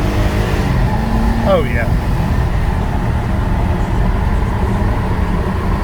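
A 2008 Mercedes-Benz ML350 4Matic SUV with a 3.5 V6 accelerates hard, a loud steady engine roar heard from inside, with a brief rising whine early on and a short spoken remark near the start.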